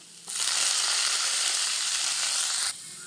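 Curry leaves drop into hot oil with ginger and erupt into a loud, bright, steady crackling sizzle that runs for a couple of seconds before cutting off, with no talking.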